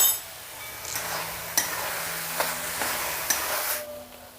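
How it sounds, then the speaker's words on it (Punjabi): Dry fruits stirred into carrot halwa (gajrela) in a wok, a steady close scraping and sizzling hiss broken by several sharp clinks of the spoon against the metal, no talk. "ਡਰਾਈ ਫਰੂਟ ਨੂੰ ਵੀ ਚੰਗੀ ਤਰ੍ਹਾਂ ਮਿਕਸ ਕਰ ਲਵਾਂਗੇ"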